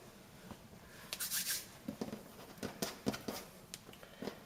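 Baguette dough made on a poolish is folded by hand on a work surface: soft, quiet pats and light slaps come in an irregular series, close and gentle.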